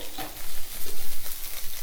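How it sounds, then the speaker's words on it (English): Chopped vegetables for a Thai green veg curry sizzle and fry in a hot pan, a steady close crackle with stirring scrapes and soft clatter over about two seconds, with no one speaking. "You can hear that sizzling."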